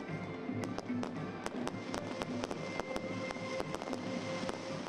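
Chinese New Year community fireworks in Manila, a faint distant series of sharp bangs and crackles popping irregularly over steady background noise.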